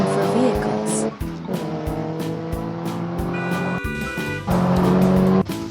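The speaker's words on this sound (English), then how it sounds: "This is a car." A car drives with its tires squealing loudly through several seconds, joined by steady tonal background sounds.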